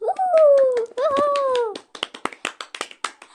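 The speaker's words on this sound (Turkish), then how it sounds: "Alkış." Quick hand claps follow a stretch of child speech, about a dozen sharp, close claps in an uneven burst.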